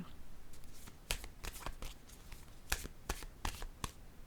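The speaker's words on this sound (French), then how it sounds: "Attendez, je vais piger une autre carte." Tarot-style cards shuffled and handled, a run of sharp riffling snaps and flicks in irregular bursts, close and clear, with no one talking.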